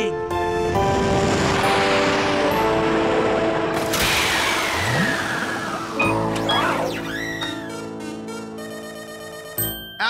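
A cartoon spaceship engine whirs and whooshes as it comes down to land on a planet, with sweeping descending tones, tinkling musical layers and a sudden shift partway through, loud and continuous throughout.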